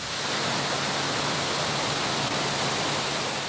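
Water cascades over massive quarried boulders at City Creek Cascades, gushing at more than 2,500 gallons per minute in a loud, steady, close roar of rushing water.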